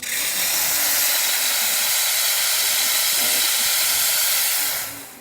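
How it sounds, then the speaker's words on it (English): Expobar espresso machine steam wand releasing a loud, steady hiss of steam that runs for about five seconds before cutting off; no talking. "let's do some steam too."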